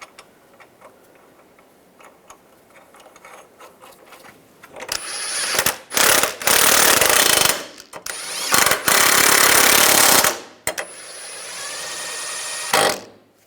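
Power tool tightening the nuts on a lower control arm bolt of a 2004-2009 Toyota Prius: several loud, rapid hammering bursts of an impact wrench, close up, after a quieter stretch of ticking and handling.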